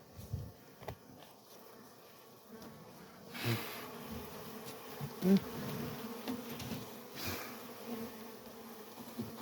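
Honeybees buzzing softly at close range around a hive during feeding before winter, a low drone with a few louder passes as individual bees fly near.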